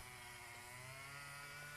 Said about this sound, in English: my neighbor's full on with the power tools